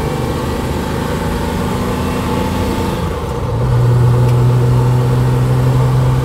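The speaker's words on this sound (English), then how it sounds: "I'm cruising along at 50 miles an hour and this engine is hardly even revving up." A 1968 Mercedes 280SEL six-cylinder with a four-speed gearbox cruises at about 50 mph, giving a steady, smooth engine hum with road rumble throughout, and a low drone that becomes more prominent partway through.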